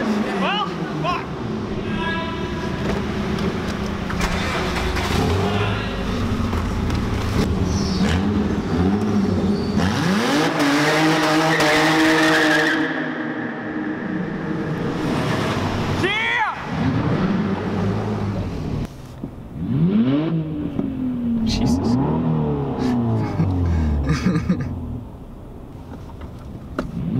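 A car at a car meet revs hard and spins its tires, a loud continuous engine roar with rising and falling pitch sweeps, close by, with people talking over it.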